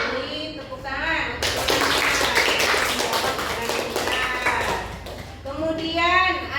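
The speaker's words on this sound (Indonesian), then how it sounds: "Benar. Beri tepuk tangan." A classroom of children applauds together in a loud, sustained burst of clapping that lasts several seconds, with a teacher's voice heard briefly before and after.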